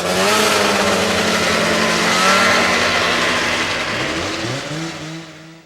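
A snowmobile engine roars loud and close, holding a strong steady drone before its pitch drops and the sound fades away as the machine passes and recedes, with no talking.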